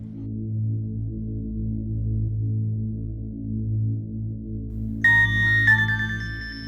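A phone ringtone breaks in near the end over a steady low hum in an indoor drama scene, its bright repeating tones signalling an incoming call.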